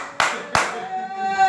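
Two sharp, loud hand claps in a church setting during an old year's service, spaced about a third of a second apart, followed by a sustained tone and murmuring in the room.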